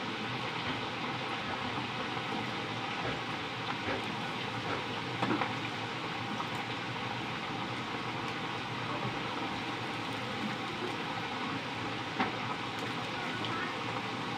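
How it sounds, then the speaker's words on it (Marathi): French fries deep frying in oil over medium heat, a continuous, even sizzling hiss that holds steady throughout at a modest level, with no talking over it. "मध्यम आचेवरती चांगले डीप फ्राय करून घ्यायचे आहे, छान लालसर रंग येऊपर्यंत।"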